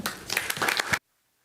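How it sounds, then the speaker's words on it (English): Brief burst of applause from a city commission meeting audience, about one second of clapping that stops abruptly into silence. "So I think that warrants a big thank you and a round of applause."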